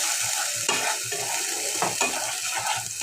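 Spice paste with turmeric is sautéed in a pan for a lentil and egg dish, a bright sizzle broken by rhythmic scraping and clinking stirs of a utensil, close and unvoiced.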